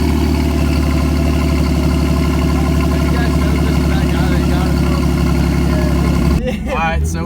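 A Chevrolet Silverado with rod knock runs at a steady, loud idle with a smooth, even rumble and no tick, up close; a shuffle and brief disturbance near the end, with speech-like sound detected though no words come through.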